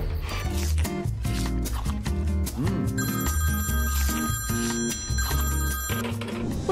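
A telephone rings steadily in the background of a cartoon music bed, the bell tone repeating across the middle of the clip among busy music and effects.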